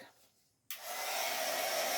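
Near silence, then a hair dryer switches on abruptly and blows loudly and steadily to the end.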